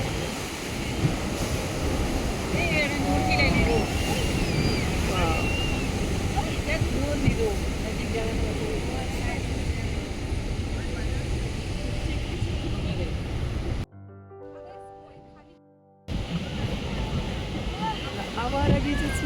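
Boat motoring toward a waterfall in Switzerland, with a constant roar of rushing water and wind buffeting the microphone, loud and close, briefly cutting out before the roar resumes.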